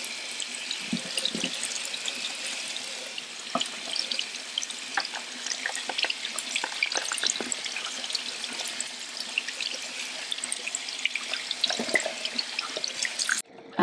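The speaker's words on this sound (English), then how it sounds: "then we just take our magic eraser, wet it, and wipe it down" Running tap water wetting a magic eraser that then wipes down a laser-engraved cup, a steady broadband splashing hiss throughout with small clicks and scrubbing touches, close and fairly loud, no talk.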